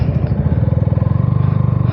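A new KTM Duke 200 motorcycle ridden in sixth gear, its engine a close, steady, throbbing drone with a fast, even pulse and no change in pace.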